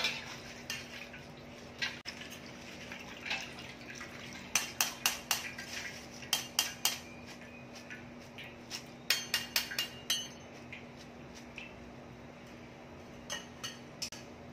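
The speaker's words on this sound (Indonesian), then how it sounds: "kalau disedok ringan dan ada bunyi keripik-keripik macam kercek-kercek" Food is lightly scooped and stirred in a pan, giving repeated crisp clinks and crackly scrapes in irregular bursts, fairly close, with a steady low hum underneath and no talking.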